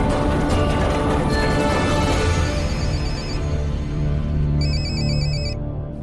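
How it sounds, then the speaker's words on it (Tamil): A phone rings with a repeated electronic ringtone pattern, beeping in bursts over a dense, loud background of dramatic music. "யாரோட போன் ரிங் ஆகுது?"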